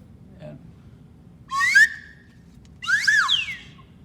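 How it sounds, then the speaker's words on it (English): A slide whistle gives two separate rising-and-falling swoops, the second longer and wavier, sounding close and fairly loud over a quiet low background hum. "this is a slide whistle,"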